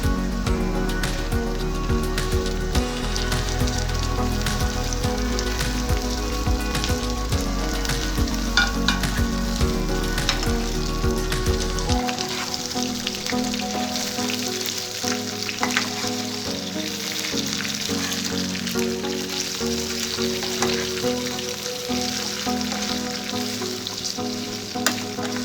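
Okra pieces frying in a pan with ginger garlic paste, a loud continuous sizzle with scraping stir strokes nearby, over background music.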